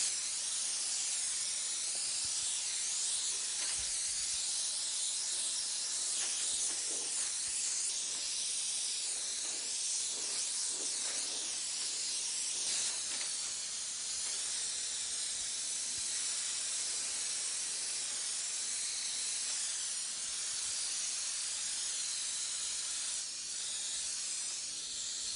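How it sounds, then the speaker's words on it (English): An airbrush sprays pearl paint onto a Hummer in a long, continuous, fairly loud hiss that holds steady for the whole stretch, with slight shifts in pressure and no voices. "I play with the air pressure and the fan pattern at this stage, and distance from the nozzle to the vehicle"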